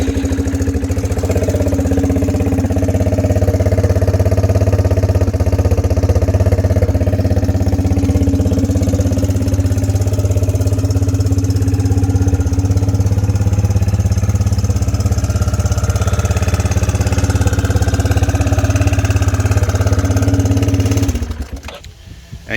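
A 2008 Arctic Cat engine with 425 hours runs at a steady, loud idle close by, a continuous low throbbing drone with mechanical clatter that holds for about twenty seconds before abruptly cutting off.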